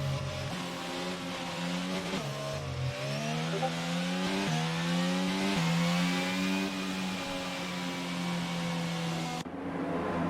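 Race cars idle and rev on the starting grid in the F1 22 video game, a steady, loud engine drone with pitches that rise and shift as several cars hum together, with no talk over it.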